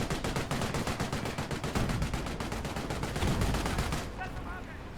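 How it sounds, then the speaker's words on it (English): Rapid, evenly spaced bursts of Bren light machine gun fire in a Company of Heroes match, loud and close for about four seconds before trailing off, with faint voices calling at the end. "There's a lot of Brens here. A lot of automatic weapon fire, which can be quite effective versus the 2-2s."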